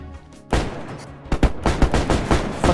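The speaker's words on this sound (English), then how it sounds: "What are they shooting at?" Gunfire rings out in DayZ on a winter map, loud nearby shots followed by a quick irregular string of cracks and bursts.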